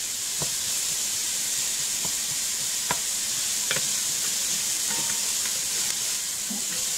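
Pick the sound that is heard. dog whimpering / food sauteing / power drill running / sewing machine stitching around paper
food sauteing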